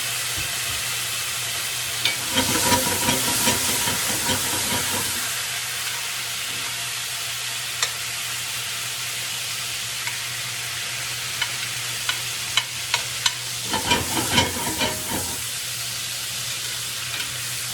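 Apples and onions sizzle loudly in a hot pan off the heat as apple cider vinegar goes in, two bursts of crackling spatter rising over a constant hiss, with a low steady hum underneath and scattered pops.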